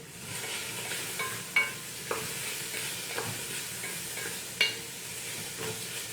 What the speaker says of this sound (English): So I'm going to add in the garlic now. Give that a stir.